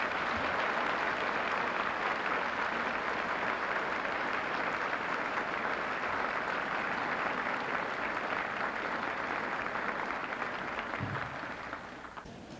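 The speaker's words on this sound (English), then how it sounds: "Give them a round of applause." An audience gives a long round of applause for the Air Weather Service pioneers at an evening event, steady and continuous clapping on an old 16mm film soundtrack with constant hiss, fading toward the end.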